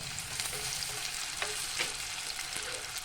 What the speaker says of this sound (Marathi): मी हे बटाटं टाकून घेणार आहे तेल मीठ आणि थोडंसं पाणी टाकून छान परतून घेणार आहे